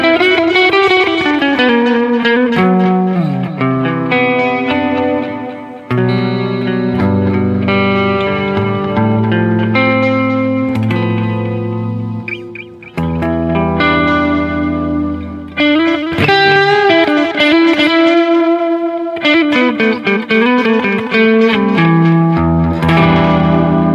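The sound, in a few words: Roland RE-201 Space Echo plugin, default echo preset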